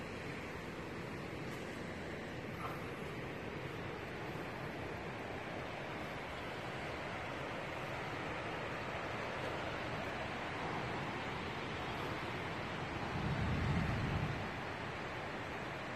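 Ocean surf rolling onto the shore at Imperial Beach, a steady broadband wash of breaking waves with light wind, swelling slightly louder near the end, no voices.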